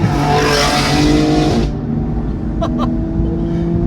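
A 700 BHP BMW G87 M2 accelerating hard, its engine roaring loud and close before the revs suddenly drop off into a lower rumbling drone.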